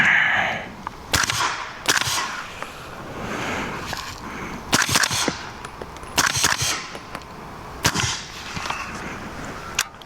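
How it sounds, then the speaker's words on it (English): A radial delayed 300 Blackout rifle firing a string of rounds outdoors, with sharp, loud reports spaced irregularly about a second apart and some handling noise between shots. "let's just see if this guy runs through 7, 8 rounds, something like that."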